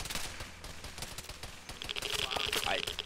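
Video game firefight at an SCP anomaly site, with steady rapid gunfire crackling throughout and scattered overlapping shots at moderate distance, plus a faint voice and radio-like tones near the end.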